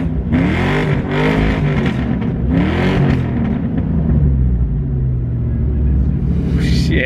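A Foxbody Mustang with its mid pipes removed roars at full throttle, the loud exhaust rising in two sweeping revving pulls before settling into a heavy, steady rumble close to the microphone.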